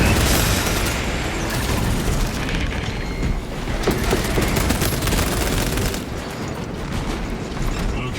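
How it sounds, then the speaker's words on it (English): Crack grenade blasts in the game Warhammer 40k: Space Marine, heavy booms mixed with rapid gunfire that run continuously and loud throughout, with no voices. "Deploying crack grenade."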